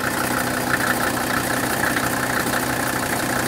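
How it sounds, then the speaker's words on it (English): A Mercedes W116 300SD with a healthy diesel engine idling, a steady moderately loud rumble with a faint rhythmic knocking texture throughout and no voices. "this is the sound of a healthy engine"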